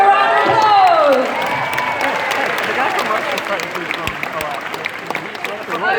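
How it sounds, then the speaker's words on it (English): Convention panel audience at a GalaxyCon Q&A in Raleigh bursts into loud, sustained applause with cheering and whoops filling the hall, a voice briefly audible at the start before the clapping settles into a steady wash. "Have a round of applause."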